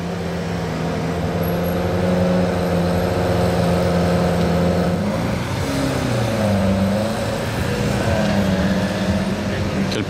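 An orange Lamborghini Aventador S drives past on a road, its V12 exhaust giving a loud, steady engine drone that rises and falls as it revs, with someone talking over it throughout.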